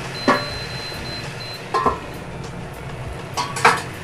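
A metal lid is set over a pan of egg korma masala frying on the stove: three or four sharp, close metallic clinks spaced a second or more apart over a low cooking hiss, with no talking.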